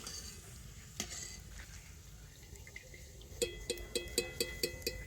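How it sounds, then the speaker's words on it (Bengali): Watermelon rind chips frying in hot oil give a soft, steady sizzle, joined later by a regular series of sharp metallic taps from a utensil against the pan. "দেখুন কত সুন্দরভাবে চিপসগুলো ভাজা হয়ে যাচ্ছে"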